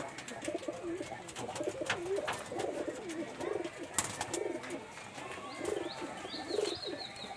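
Pigeons coo nearby in soft repeated rounds, a low throaty rhythm layered over scattered chirps and background clatter.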